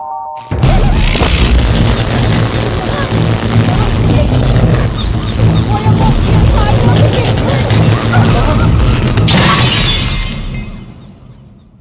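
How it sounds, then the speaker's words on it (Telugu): Light bulbs burst in a Telugu comedy film scene from Namo Venkatesa: a sharp glassy shatter and boom opens a long, loud, dense stretch of crashing noise, with a second bright burst near the end before it fades. "నిజానికి జాతకం వల్ల లైట్లు పేలకూడదు"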